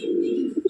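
Giribaj pigeons cooing up close, a low sustained coo followed by two short throaty pulses.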